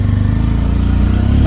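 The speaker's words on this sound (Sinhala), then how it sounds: "බයික් එක ස්ටාර්ට් කරමු." A motorcycle engine running close by just after starting, a loud steady low throb with an even pulsing beat, slightly shifting near the end.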